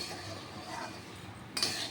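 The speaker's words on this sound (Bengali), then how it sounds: "এই মুড়িটাকে অনবরত নাড়তে হবে" Puffed rice (muri) being stirred constantly in a pan as it dry-fries, giving a steady scraping rustle with light utensil clinks against the metal, and a brighter, louder scrape near the end.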